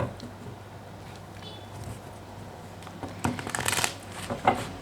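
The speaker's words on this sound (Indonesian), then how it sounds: "terutama ketika aku shuffle kartu ini" Tarot cards are shuffled close up in a quiet room, starting as soft faint riffling and building to a few louder crisp bursts of flicking cards near the end.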